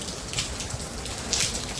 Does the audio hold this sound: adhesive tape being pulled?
no